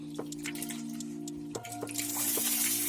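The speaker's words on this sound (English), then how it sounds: "just rinse this for a few more times" Red lentils being rinsed in water make soft drips, splashes and squishy swishing over a steady hum, with the water noise rising and getting louder toward the end.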